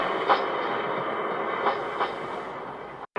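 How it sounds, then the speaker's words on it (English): A passing train rumbles steadily at a moderate distance, with a broad continuous roar and a few faint periodic clacks, then cuts off abruptly near the end. "This train's supposed to be out at midnight, man."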